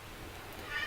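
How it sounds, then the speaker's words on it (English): A cat meows once, a short, fairly close call that rises toward the end, heard alone without talk. "sorry about my cat. She's in a mood today."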